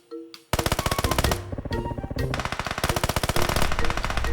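Rapid automatic gunfire in PUBG Mobile, loud sustained bursts of shots with a brief pause at the start and a fast steady rattle building toward the end.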